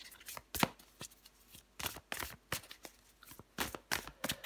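Tarot cards shuffled and drawn in repeated crisp riffling bursts, close and fairly quiet, with brief pauses between shuffles and no talking.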